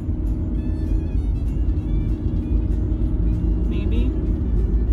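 Steady low rumble of a car being driven, heard from inside the cabin, a constant even drone with faint higher noises over it and no talk.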